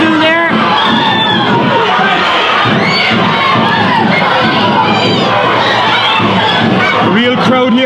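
A loud crowd cheers and shouts at a school Gaelic football match between St Finbarr's Bantry and Scoil Eoin Ballincollig, with many children's voices yelling together continuously throughout.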